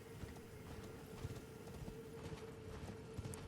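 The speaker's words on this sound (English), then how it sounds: "It's weird being able to have a horse in here." Horse hooves clip-clopping in the video game Elden Ring, a quick, steady rhythm of soft thuds at a trotting pace over a low ambient hum.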